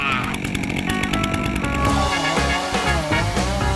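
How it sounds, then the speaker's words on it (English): A big chainsaw cuts mesquite wood with a loud, close, continuous engine whine whose pitch shifts as it bites into the wood. "I use that big chainsaw over there to cut the wood up."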